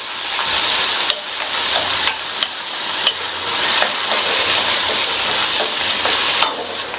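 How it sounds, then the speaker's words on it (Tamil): Chopped onions sautéing in a pan for a Tamil potato dish, a steady close sizzle with repeated scraping stirs of a spoon through the pieces, and no voices. "இந்த வெங்காயம் அதனுடைய கலர் லைட்டா மாறுற அளவுக்கு வதக்கிக்கணும்."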